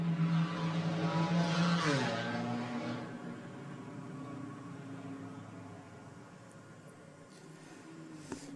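GT Cup race cars circulating behind a BMW safety car at the Macau Grand Prix street circuit, a loud engine drone whose pitch drops as a car passes, then fades to a more distant, steady hum.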